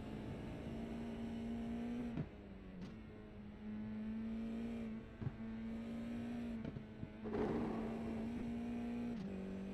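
Steady engine drone of an open-wheel race car in a racing sim game at New Hampshire, holding a near-constant pitch with brief dips at gear shifts and a short rev surge, continuous and fairly loud with no talk.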